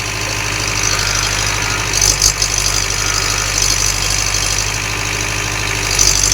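An old tractor engine idles steadily nearby, a loud, even low rumble with a rapid mechanical knock and no talking.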